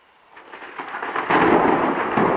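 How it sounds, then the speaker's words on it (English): A loud thunderclap from a nearby storm rolls in and swells into a deep rumbling roar, heard in a workshop without any talk. "It's gotten dark in here because of the storm."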